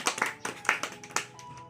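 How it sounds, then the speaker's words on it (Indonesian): Classroom applause for group 2 during a microteaching lesson, a small group clapping in separate, uneven claps, fairly quiet and sparse, over under two seconds. "beri aplaus untuk kelompok 2"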